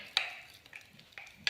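Henna gloss being stirred in a bowl with conditioner for a thick paste, giving a few faint, separate scraping clicks and taps, quiet and close with no talking.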